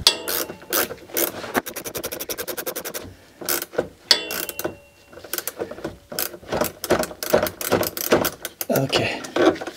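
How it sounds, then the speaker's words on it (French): Close-up ratchet wrench clicking as a lock nut is tightened on a Renault: rapid bursts of sharp metallic pawl clicks separated by short pauses, loud and near, with no speech. "J'ai plus qu'à serrer le contre-écrou."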